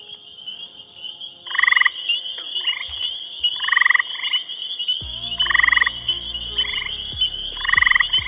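Close, loud gray tree frog calls: several short musical trills repeat at regular intervals over a quiet background, with a few faint clicks between them.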